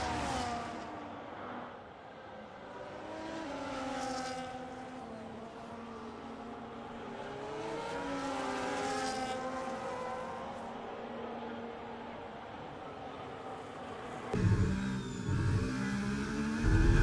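Race cars lapping in an F1 league race at the Mexico circuit in a video game, engines whining and shifting pitch continuously as cars pass, with a louder, rougher burst of engine noise near the end.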